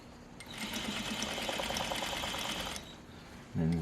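A sewing machine runs steadily down a pajama inseam toward the hem, a close continuous mechanical whir for about three seconds, then stops, followed by a short low thump.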